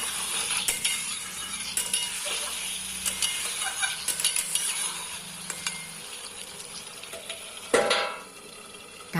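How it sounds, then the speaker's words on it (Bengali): Potato and egg curry masala sautéing with a little water under a lid, a soft steady sizzle with scattered light scrapes and clinks of a spoon on the pot, and one sharper metallic clatter near the end. "জল দিয়ে দিয়েছি, দিয়ে হালকা ঢেকে দেবো এখন কষিয়ে।"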